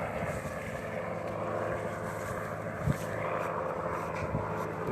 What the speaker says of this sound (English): it's accompanied by the helicopter right now as well.